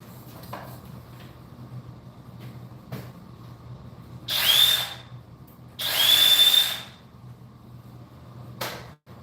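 A power drill mixes drywall mud in a bucket in two loud bursts of whirring, each lasting about a second, separated by a short pause over a quiet background.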